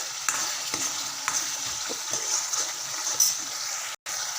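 Masala for a soybean chunk curry fries and is stirred in a pan, giving a steady, close sizzle with brief scraping stir strokes throughout.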